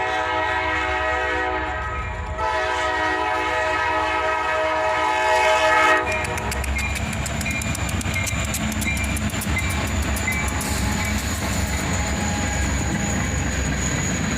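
Four-unit freight train lash-up with a flared-radiator SD70MAC trailing rolls past on a snowy February morning, a loud continuous rumble and rail noise, with a horn-like tone early on and steady clatter of cars later.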